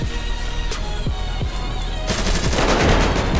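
Rapid gunfire in a GTA 5 street battle, with several sharp close shots followed by a dense, loud burst of overlapping automatic fire and crackling reports toward the end.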